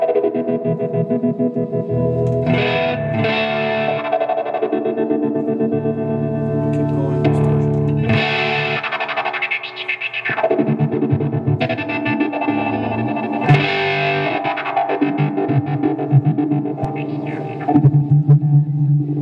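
Loud electric guitar through a distortion effects pedal, ringing chords and sustained notes played continuously with a thick, fuzzy tone.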